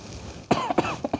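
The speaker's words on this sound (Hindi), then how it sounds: "वापस आ गई मेरी खांसी।" A woman's cough, several quick rough bursts in close succession, near and fairly loud over a quiet background.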